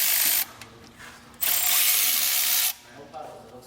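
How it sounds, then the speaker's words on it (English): A hand ratchet loosens the connecting rod bolts on a BMW E90 M3 engine, clicking in two loud, close bursts with a brief pause between them, and no talk over it. "We're actually starting to crack the rod bolts off right now."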